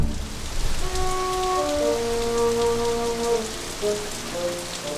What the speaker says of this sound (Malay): hujan turun. Saya rasa ribut nak melanda.